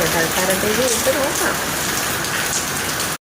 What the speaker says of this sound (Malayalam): ഇവിടെ മഴയാണ്.